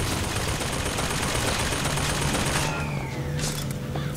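A Gatling gun in BioShock Infinite fires a dense, sustained stream of rapid shots, loud and continuous, with a sweeping whistle and scattered impacts toward the end.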